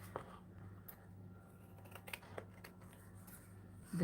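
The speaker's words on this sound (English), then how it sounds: "now I need scissors because it's driving me crazy" Scissors trimming paper for an art journal page, a handful of quiet, scattered snips and small clicks close by, alone in a hushed room.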